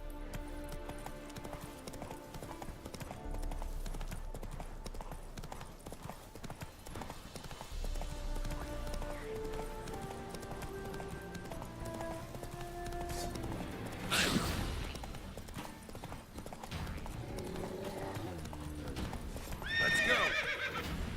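A horse in the video game Witcher 3 gallops with steady rhythmic hoofbeats over game music, a loud whinny rising partway through, and a brief voice urging it on.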